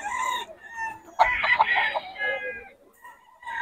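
Gamefowl offered for sale at a market in Bocaue call out up close with a loud rooster crow, bracketed by shorter clucking calls, against a quiet background.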